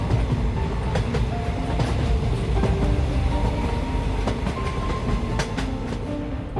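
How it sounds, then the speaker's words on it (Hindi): A train pulls in at a station platform, a steady loud rumble of wheels and rail clatter with scattered metallic squeals and clanks as it slows, with no voices. "तभी वहाँ एक ट्रेन आकर रुकती है।"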